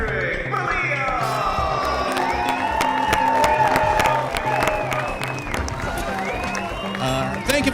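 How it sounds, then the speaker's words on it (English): Theater audience applauds and cheers with whoops for a comedian host taking the stage, a steady crowd roar of clapping under music lasting throughout. "Please give a long round of applause for your host and MC for tonight, world famous comedian Patrick Maliha!"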